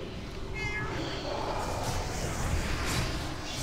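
A cat meows a few times at fairly close range, with short tonal calls rising over a steady background hiss and no talking.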